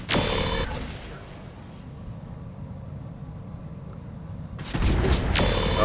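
Mech weapons in Roguetech/Battletech fire in loud, dense volleys at the start and again at the end, with a quieter, rumbling lull between them.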